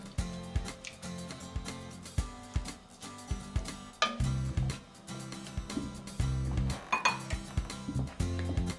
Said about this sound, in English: I'm going to give these a stir.